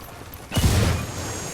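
A frag grenade in Ghost Recon Wildlands detonates with a sudden loud boom about halfway through after a quieter lead-in, followed by a rumbling decay and debris-like rattle.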